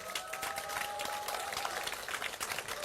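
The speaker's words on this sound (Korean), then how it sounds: "여기 계신 모든 여러분 다시 한번 힘찬 박수 한번 부탁드리도록 하겠습니다" An audience at a summer talk concert in Chungbuk applauds, giving steady, dense clapping that holds throughout without pause.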